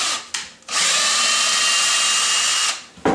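A keyless-chuck cordless drill taps 8-32 threads, running in a short spurt, then a steady high whine for about two seconds before stopping, then a quick final burst, close and loud.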